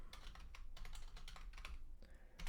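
Rapid, steady typing on a computer keyboard while entering code, close and clear with dense overlapping keystroke clicks throughout and no speech.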